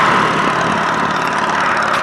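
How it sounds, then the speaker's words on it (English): Car engines rumble and rev on a busy street in Savannah, Georgia, a loud continuous motor drone close by with a slight rise in pitch. "Cars rev by you"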